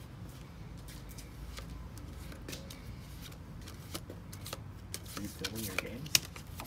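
Playing cards are handled and drawn during a tabletop trading card game, with soft shuffling and flicking sounds and a few sharper taps, quiet and close under background voices.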